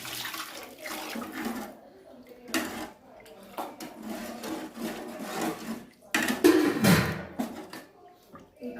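Water splashes and pours into a cooking pot of bagara rice seasoned with chicken masala and biryani masala, a close, steady rushing with a louder surge near the end.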